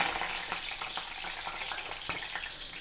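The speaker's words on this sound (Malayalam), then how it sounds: "എണ്ണ കാഞ്ഞിട്ടുണ്ട് നമുക്ക് അല്പം കറിവേപ്പില ഇട്ട് കൊടുക്കാം" Curry leaves sizzle and crackle in hot oil in a clay pot, a continuous close frying hiss scattered with small pops.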